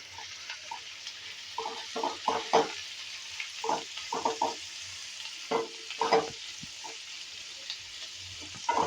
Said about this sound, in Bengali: একটু নাড়াচাড়া করে সমস্ত পেঁয়াজটাকে মিলিয়ে দিলাম